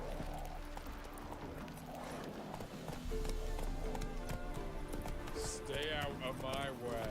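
The horse Roach gallops in the video game Witcher 3, quick clip-clop hoofbeats under game music and a man's speech, growing louder midway.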